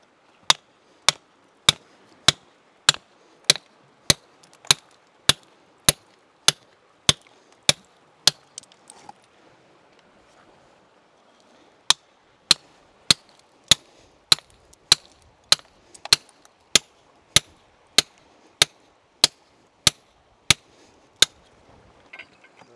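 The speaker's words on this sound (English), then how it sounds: "Got a heavier hammer." Sharp, evenly spaced metallic hammer blows on rock while extracting a Cretaceous reptile fossil, about two per second, in two long runs separated by a short pause, loud and close.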